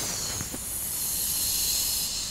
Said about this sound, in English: And it's fizzy. It's fizzing.